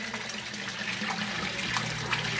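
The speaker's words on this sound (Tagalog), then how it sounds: "Yang nagbibigay ng bubble sa pan ko, yan ang tinatawag ng aerator pump." A Resun aquarium aerator pump keeps water bubbling in a pan, a continuous close trickling and burbling with no break.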